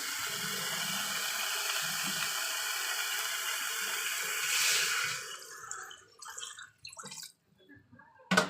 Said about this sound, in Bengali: তো চলুন এবার দিয়ে দিচ্ছি জল